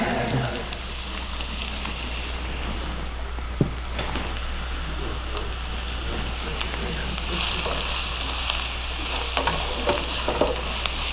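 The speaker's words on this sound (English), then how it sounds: "I'm going to cook them till they are a little browned" About six tablespoons of shallots fry in a pan toward browning, producing a dense, steady sizzle with occasional small clicks and pops throughout.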